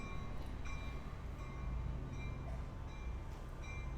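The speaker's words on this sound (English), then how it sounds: "All right, let's watch this Ace train here." An ACE commuter train pulls away in Santa Clara, making a low, steady rumble of rolling cars with faint metallic squeals and tones, heard from a moderate distance with no talking.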